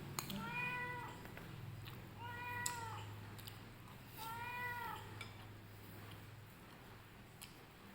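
A cat meows three times at moderate distance, each call drawn out, with gaps between them, over a low steady hum and occasional faint clinks of dishes during a family meal.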